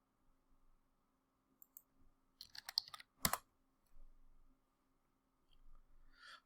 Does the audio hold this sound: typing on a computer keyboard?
yes